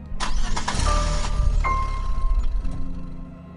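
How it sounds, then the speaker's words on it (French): A pickup truck engine cranks and starts up close, with a loud churning whine and clatter that settles into a lower steady run, no voices. "Le pick-up démarra."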